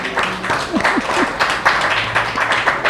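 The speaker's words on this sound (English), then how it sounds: "Give them a round of applause." Brief, moderate applause from an audience at a book launch after a junior boys choir performance, patchy claps under faint background voices over a few seconds.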